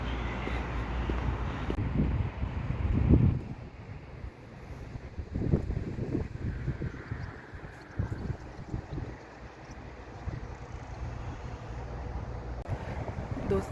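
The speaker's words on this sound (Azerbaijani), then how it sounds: "gah gün çıxır, gah külək əsir" Cool, pleasant wind blowing outdoors along the seaside boulevard in Bayil, Baku, rumbling over the microphone as a steady low roar with stronger gusts swelling now and then, and fainter background sounds underneath.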